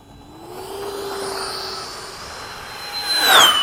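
A Habu32 launch glider flies past at speed over Bayside, a rising whoosh that swells and sharpens into a brief close pass before fading, loud and alone.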